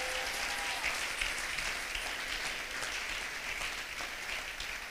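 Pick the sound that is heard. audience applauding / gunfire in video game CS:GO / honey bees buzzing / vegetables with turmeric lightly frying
audience applauding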